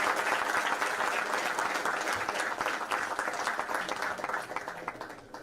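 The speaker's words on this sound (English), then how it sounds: "Let's welcome Captain Nitin Don with a round of applause" An audience at a maritime career summit applauds to welcome a ship's captain onto the stage, a steady wash of many hands clapping that gradually softens near the end.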